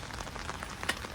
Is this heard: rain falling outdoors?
yes